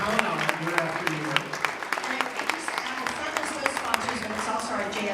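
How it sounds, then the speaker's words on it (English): A party crowd at a film festival reveal party claps, with a steady patter of many hands and sharp individual claps mixed in. Loud voices and music sound along with it. "give yourselves a round of applause for making this film festival something we can count on year after year"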